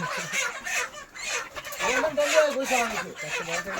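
Chickens cluck and squawk steadily during poultry loading at a farm, a busy overlapping chorus of birds close by with rising agitated calls.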